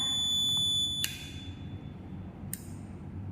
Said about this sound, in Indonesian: Hasilnya adalah buzzer akan menyala.